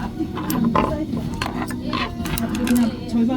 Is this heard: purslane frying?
no